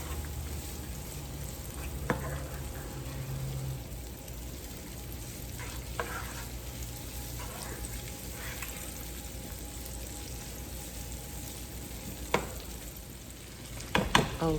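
Small red potatoes sautéing in a pan, a continuous soft sizzle with occasional clicks and scrapes of stirring, close and steady, with a few louder knocks near the end.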